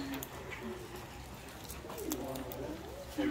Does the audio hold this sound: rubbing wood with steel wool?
no